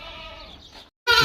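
Goats bleating close by, a wavering cry that breaks off briefly before a second louder, sharper bleat.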